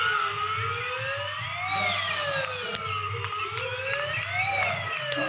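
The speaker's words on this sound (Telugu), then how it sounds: "Ambulance ambulance ambulance ambulance." An ambulance siren wails steadily in repeated rising and falling sweeps, loud and close, with low road rumble beneath and no talking.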